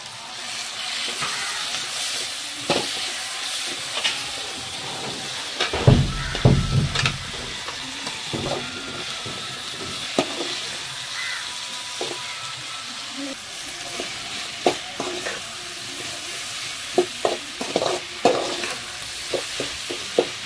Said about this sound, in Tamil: வெங்காயத்தை ஆட் பண்ணி அதை வதக்கிக்கிட்டு இருக்கோம்